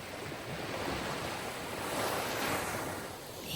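Sea waves surge and wash steadily along a shore, a continuous broad roar that swells toward the middle and eases again, heard alone with some wind noise on the microphone.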